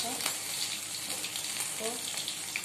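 Sabudana and potato pakoras deep frying in hot oil, a continuous close bubbling sizzle with faint background voice traces.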